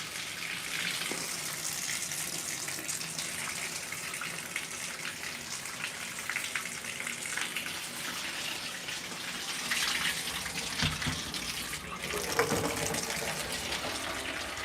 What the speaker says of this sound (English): I heard the water flowing and I was like, oh, that sounds pretty cool.